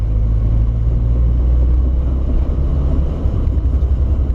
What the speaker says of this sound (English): We got some bad brake grinding.